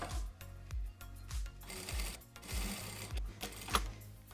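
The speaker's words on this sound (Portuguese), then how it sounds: "vou dar sequência aqui na costura" Domestic sewing machine stitching fabric for a retro bikini top, running in short repeated bursts with brief pauses between runs, close and fairly quiet, with no talking.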